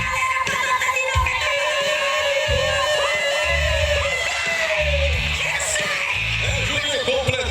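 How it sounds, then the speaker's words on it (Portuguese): Rodeo crowd at a bull-riding event at a bonfire festival in Jateí, Mato Grosso do Sul, yelling, whooping and cheering loudly throughout, a dense sustained roar of many voices with an announcer's voice mixed in. "Pega o grito da galera"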